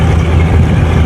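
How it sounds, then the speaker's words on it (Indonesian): A bagang fishing boat's engine being throttled back produces a loud, close, steady low-pitched drone and rumble with no voices. "bisa dilihat atau didengar mungkin suara mesinnya perlahan-lahan semakin"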